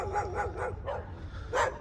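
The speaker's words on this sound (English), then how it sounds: "that is the loudest thing I've heard over here are these two little dogs. They have been barking since I got here" Two little dogs bark near a house during a property walkthrough, giving a quick string of yappy, high barks followed by a louder, sharper yip, moderately close and with no one speaking.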